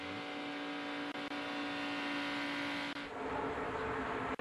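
Race cars in an ARCA Racing Series race roar past at speed, a loud steady engine drone with a sustained tone, swelling as cars pass near and then fade.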